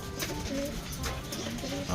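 Pigeons coo in a backyard loft where a homing bird has returned after a long flight, soft repeated calls running steadily over a faint ambient hiss for two seconds.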